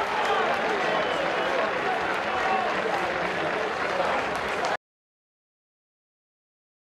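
Pescara football fans applaud their team after a 2-0 away win, a dense, continuous wash of crowd clapping and noise that cuts off abruptly partway through.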